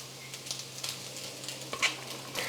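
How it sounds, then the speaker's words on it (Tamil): Cooked rice being stirred into a coconut rice mixture in a pan over low heat, giving soft, faint scraping and light sizzling in short irregular strokes, with no voices. "ஸ்டவ்வை குறைச்சி வச்சுக்கிட்டு சாதத்தை சேர்த்து கலந்து கொடுத்துக்கலாம்."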